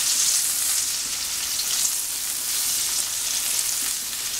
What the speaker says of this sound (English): so the butter is starting to brown.